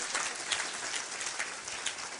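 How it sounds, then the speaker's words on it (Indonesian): Church congregation applauding, a dense, fairly faint wash of many hands clapping at once, steady and continuous with no voices on top. "Berikan tepuk tangan yang meriah buat Tuhan."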